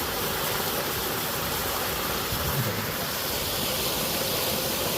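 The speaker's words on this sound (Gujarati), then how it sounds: "જેઓએ તળાવમાં પાણી ખુલ્લેઆમ છોડેલ છે આ જુઓ પાણી" Water rushes out from a lake in a steady, loud, unbroken flow, a constant hissing roar with no voices.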